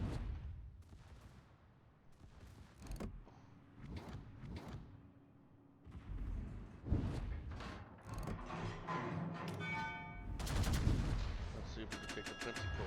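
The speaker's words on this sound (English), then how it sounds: "Let the secondaries do the job." A warship's secondary guns in World of Warships fire repeated sharp booms in irregular clusters over low sea and engine rumble, with brief mechanical clanks between.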